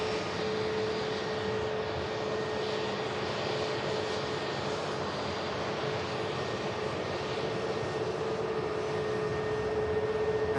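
Airbus A321neo jet at Manchester Airport, a steady broadband engine roar with a faint whine holding evenly throughout at moderate distance, no voices.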